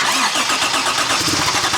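A VW Corrado engine cranks and fires, loud and close, with a dense rough churning that continues steadily through the short burst.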